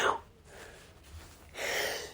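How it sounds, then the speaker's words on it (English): A single sharp sneeze bursts out near the mic, followed by a quiet pause and a breathy exhale or second gasp. "Hold on, I'm gonna sneeze again."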